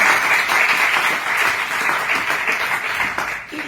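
Loud, dense applause from an audience at a talk on Ayurveda and allopathy, steady and sustained before easing off near the end.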